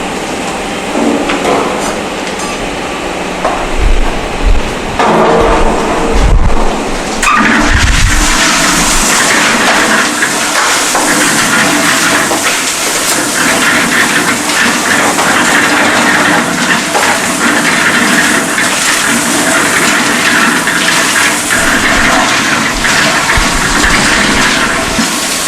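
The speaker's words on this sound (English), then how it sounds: "So we are going to add the coarse aggregate to the concrete mixer." A concrete mixer tumbles coarse and fine aggregate in its drum, starting with a few heavy thumps and clatters before settling into a loud, continuous rushing churn.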